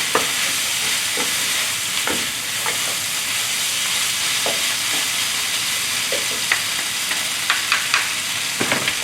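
Cabbage being stir-fried in sauce for moo shu chicken gives a steady, close sizzle with occasional sharp spatula scrapes and clicks against the pan, and no voices.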